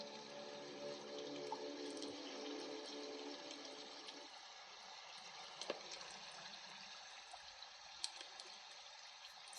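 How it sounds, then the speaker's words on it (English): Running water from a river swollen with melting snow, a continuous broadband rush that holds steady throughout, with a few faint ticks and splashes on top and no voices. "The water is running."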